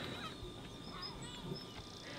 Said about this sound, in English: I'm actually really enjoying just the sound of the seagulls